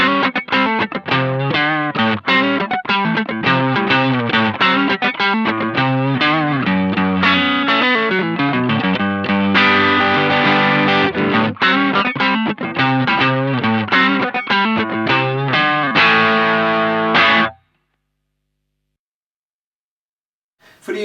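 An electric guitar played through an Electro-Harmonix East River Drive overdrive pedal rings out in loud, driven chords and riffs for about seventeen seconds, then stops abruptly into silence.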